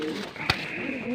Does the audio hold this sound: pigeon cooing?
yes